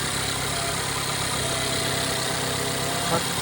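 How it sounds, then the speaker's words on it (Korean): A Mercedes-Benz GLB 250 runs at idle after an oil control valve replacement, a steady close engine drone with no change in pitch and no one speaking. "지금 이제 시동 걸었습니다."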